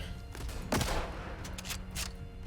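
A Lee Enfield bolt-action rifle fires in a video game, a sharp close report followed by quieter clicks and a couple of further bursts of noise, faint and without talk.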